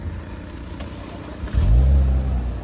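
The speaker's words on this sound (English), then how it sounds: "Let me start this car so that you hear." A 2005 Mercedes-Benz CLK's engine rumbles at idle, then surges into a loud, deep rev about halfway through and holds a strong low roar to the end, close by with no talking.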